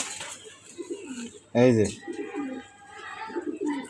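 Male Budapest racer pigeons give soft, rolling coos in repeated low phrases nearby, while someone briefly speaks over them.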